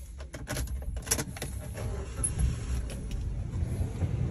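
A car's door lock is worked by hand with keys, giving a few light metallic jingles and clicks near the start over a steady low rumble of outdoor and traffic noise.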